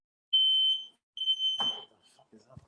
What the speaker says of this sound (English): Yeah, it's my fire alarm.